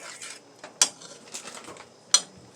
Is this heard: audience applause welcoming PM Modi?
no